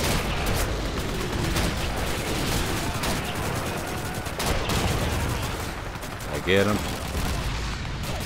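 Rapid gunfire in Call of Duty 2, a dense run of sharp shots and bursts sustained throughout, with a voice speaking briefly near the end.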